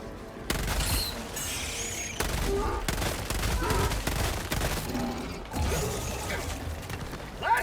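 A weapon reload in the Helldivers 2 video game plays as dense mechanical clacks and ratcheting under loud, sustained gunfire and game noise.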